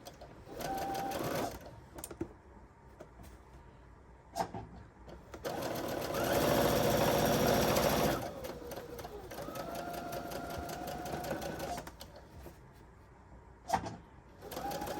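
A sewing machine stitches a quarter-inch quilting seam in several bursts, the longest a steady whirring run near the middle, separated by quiet pauses with small clicks and fabric handling.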